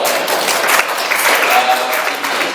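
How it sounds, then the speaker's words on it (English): Workshop audience clapping together in a steady, dense burst of applause, close and loud, running the full length without talk. "give yourselves a big hand of applause"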